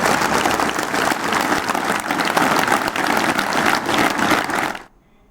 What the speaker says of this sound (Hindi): मैं चाहूँगा कि एक बार जोरदार तालियों से फिर समापन करेंगे